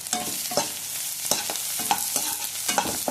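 Green chilies sautéed in a pan alongside onions, with a spatula scraping and stirring in rhythmic strokes, several distinct pushes over a soft sizzle, up close and without talk.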